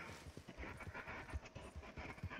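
Horse hooves clip-clop in the Red Dead video game, a quick, uneven patter of muffled thuds, fairly quiet and close, alongside a breathy panting-like sound.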